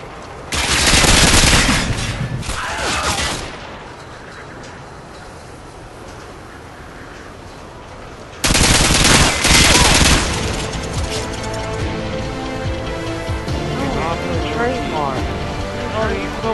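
Rapid video-game gunfire in two loud bursts of automatic fire, the first fading into a quieter stretch of background noise before a second dense barrage, with game sounds continuing after it.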